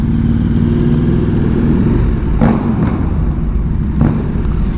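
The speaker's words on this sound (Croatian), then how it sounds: "Kako zviždi, brate, ovdje motor." A motorcycle engine runs loud and close on Chicago's South Side, droning steadily with a faint high whistle, broken by a couple of short sharp knocks.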